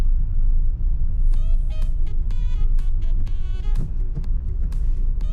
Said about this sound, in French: Bon, lui on va le laisser passer ce camion.